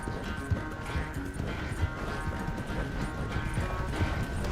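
A horse gallops in Red Dead Redemption 2, its hoofbeats pounding in a fast, continuous, fairly loud rhythm without speech.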